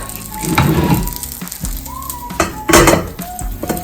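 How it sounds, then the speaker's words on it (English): A plate set over a frying pan holding an omelette, giving sharp clinks and clatters of crockery against metal over a soft sizzle, with a few separate knocks spread across the moment. "And we'll put a plate over the top."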